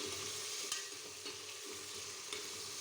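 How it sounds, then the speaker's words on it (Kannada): Tomatoes frying in a pan for a vegetable rice dish make a soft, continuous sizzle at low level, with a few faint scrapes of stirring scattered through. "ಈಗ ಸ್ವಲ್ಪ ಟೊಮೆಟೊ ಸೇರಿಸಿ ಫ್ರೈ ಮಾಡೋಣ"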